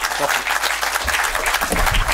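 A crowd applauds at the opening ceremony of the WRC Safari Rally project headquarters, welcoming the FIA president with dense, continuous clapping, with some speech mixed in.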